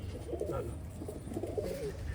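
Soft cooing from pigeons rises and falls in a few rounded phrases over a low constant hum, close by and unaccompanied by speech.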